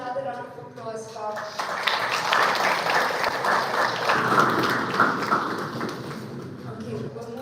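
A conference audience applauds steadily in a hall between academic sessions, a dense sustained clatter of many hands that swells slightly mid-way and carries on throughout.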